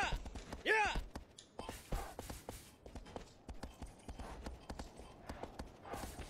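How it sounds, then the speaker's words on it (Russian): Hooves clop in a quick, regular rhythm as a horse gallops in Shadow of the Colossus, with a brief whinny-like cry near the start and faint breathy sounds in between. "Еще бы лошадь в стену не бежала."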